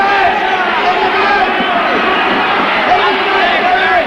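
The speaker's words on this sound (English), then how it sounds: "The crowd are very excited." Excited crowd at a 1979 boxing bout in Williamstown, a steady, dense roar of shouting and cheering filling the hall without a break, with a commentator's voice over it.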